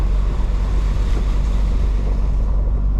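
Flash-flood water rushing and churning as it pours into Cat-Eye Creek in swampy country, a loud, steady roaring wash close to the microphone with wind buffeting and no talk.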